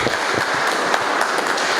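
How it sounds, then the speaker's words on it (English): An audience applauds in a dense, steady wash of many hands clapping, sustained and fairly loud throughout. "Can we give a round of applause for what he has done?"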